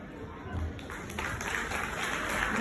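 Crowd applause at a Hindu gathering fills the space, a steady wash of many hands clapping with a faint voice mixed in, fairly loud throughout.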